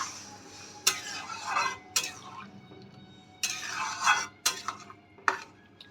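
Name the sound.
water added and stirred into fish egg curry in pan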